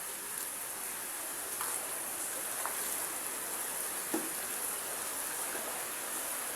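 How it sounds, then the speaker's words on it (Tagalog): Steady rain during Typhoon Carina hisses evenly, with a few scattered drips and taps standing out now and then. "Kaya dagdagan pa ng ulan."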